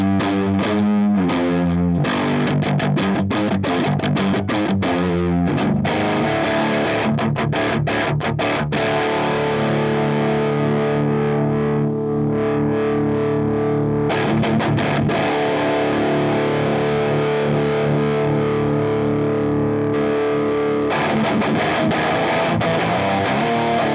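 Electric guitar through a Line 6 Helix Rack modelling a Mandarin 80 amp, loud and continuous, with distorted chugging riffs, palm-muted stabs and ringing sustained chords, played with no talking.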